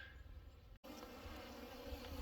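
Honey bees buzz around a hive on orientation and foraging flights, a dense steady droning hum from many insects close by, broken by one brief dropout.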